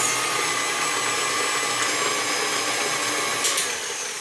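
An electric mixer beats gluten-free peanut butter cookie dough with a loud, steady motor whir that holds constant throughout, with only faint scraping ticks near the end.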